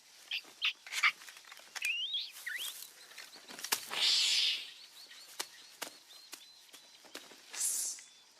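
Birds chirp in a few short, bright tweets and trills, mixed with soft footsteps and rustling, fairly near and moderately quiet.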